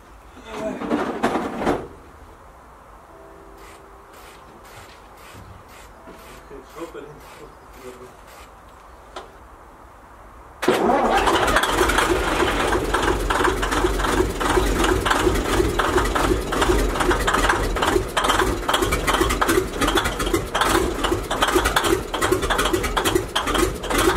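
An old Deutz locomotive engine starting for the first time after a revival: quiet mechanical ticking and faint voices, then the diesel suddenly catches and runs loud and steady with a dense, clattering rumble until the end.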